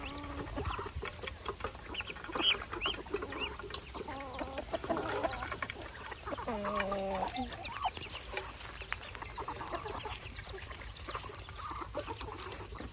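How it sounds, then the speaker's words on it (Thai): Red junglefowl chicks clucking and peeping while they drink water, a busy overlapping chatter of soft calls close by across the whole stretch, with light background noise. "ลูกไก่ป่ากำลังกินน้ำ"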